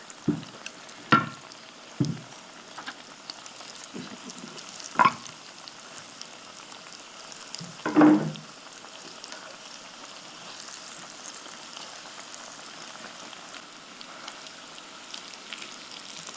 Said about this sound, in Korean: 기름의 온도가 올라가면은 다시 한번 바삭하게 튀겨낼 겁니다